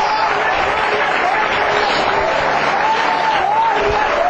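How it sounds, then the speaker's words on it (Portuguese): A church congregation applauds during a Portuguese-language worship service, steady massed clapping with voices and cheering mixed in, loud and continuous throughout. "Você pode aplaudir a Ele."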